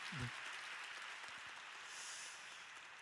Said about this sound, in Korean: 두 분께 다시 한번 우리 감사의 박수, 축복의 박수 전해주시면 감사하겠습니다